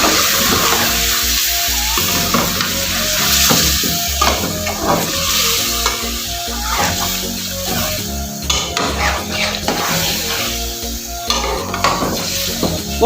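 Afghani chicken karahi masala with tomato paste frying in a pan, a steady close sizzle with occasional metallic stirring and scraping of a spoon against the pot, with no talk.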